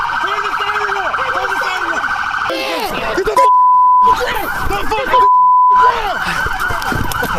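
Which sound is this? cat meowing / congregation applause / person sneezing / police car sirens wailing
police car sirens wailing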